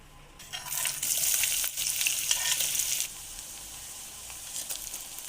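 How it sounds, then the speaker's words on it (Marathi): Chopped onion and curry leaves hit hot oil for a tempering in a pan, giving a loud, broad sizzle with stirring scrapes that settles into a steadier, quieter fry. "आता फोडणी करता आपण कढीपत्ता आणि एक मोठा चिरलेला कांदा यामध्ये परतून घेऊया"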